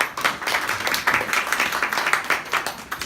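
An audience at a condo platinum launch event clapping for introduced salespeople, steady mid-distance applause from many hands lasting a few seconds with no talk.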